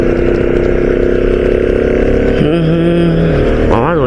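A loud motorcycle engine runs continuously up close, its pitch dipping and then rising sharply near the end as it revs.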